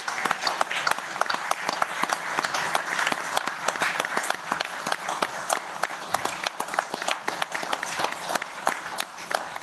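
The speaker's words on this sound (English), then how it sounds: "And that round of applause for her." Residents at an annual town meeting applaud an award recipient with a long, steady round of clapping, many hands at once, sustained and fairly even throughout.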